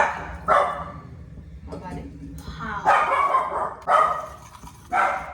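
A pet dog barks sharply several times in bursts at home, close and loud, with a person speaking briefly between the barks.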